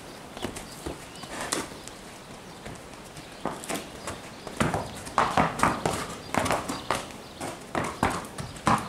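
Hooves of a roan horse clip-clop at a steady walking rhythm under a rider, growing louder and more distinct toward the end, with faint background noise and no talk.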